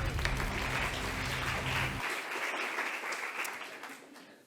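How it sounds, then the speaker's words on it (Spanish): An indoor audience at a conference on work-life balance breaks into applause, a dense, steady clatter of many hands that carries on with a low hum fading out midway. "un aplauso para ella"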